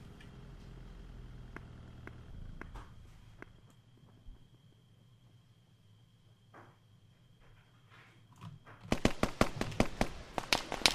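A rapid string of sharp gunshots rings out in a shooter video game, loud cracks in quick succession following a long quiet stretch with only faint scattered pops.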